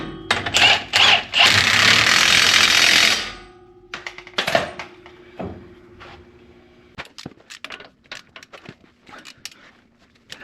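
An impact wrench gives a few quick bursts on a wheel bearing bolt of a 2013–2018 Ram 2500 truck, a loud rattling hammer for about three seconds, then shorter sharp bursts and tool clatter nearby.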